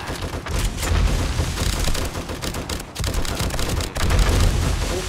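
Rapid gunfire in the video game 7 Days To Die, dense bursts of shots with heavy low booms that pause briefly and resume, loud and close throughout.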